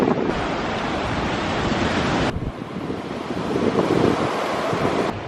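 Wind and surf roll in at high tide on a Southeast Asian coast as a constant, loud, broad roar, with gusts buffeting the microphone and no voices.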